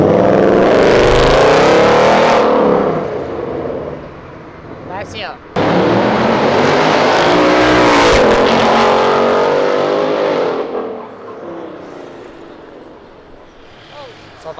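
Orange Jaguar sports car revving hard and accelerating on an urban avenue, a loud roaring engine that climbs, dips, then surges again before fading as the car pulls away, with voices nearby.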